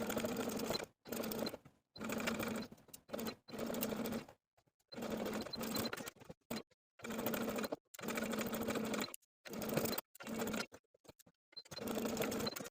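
A sewing machine top-stitches a fleece sweater's collar and yoke, running in repeated bursts of steady whirring separated by short pauses, close and clear with no talking.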